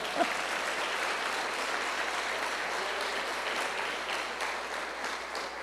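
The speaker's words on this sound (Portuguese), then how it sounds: "Merece até a salva de palmas" A church congregation applauds steadily with dense, sustained clapping throughout, evenly loud from start to finish with no talking over it.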